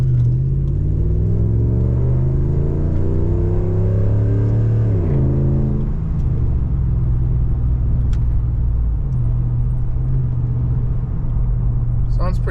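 A RAM 1500 with a HEMI engine rumbles loud and close through an Evil Energy muffler, its deep exhaust note shifting as the revs rise and fall, with no talking over it.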